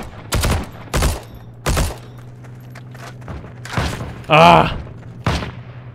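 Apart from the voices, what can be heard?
gunfire in video game Heroes & Generals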